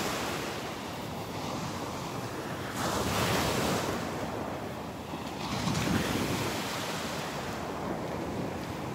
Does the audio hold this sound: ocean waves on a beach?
yes